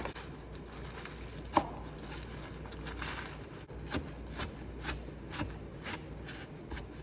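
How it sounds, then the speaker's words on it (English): A knife chops a big bag of spinach roughly on a cutting board, giving soft, irregular thuds and rustles spaced about every half second, quiet and close. "I'm also going to give that a nice rough chop"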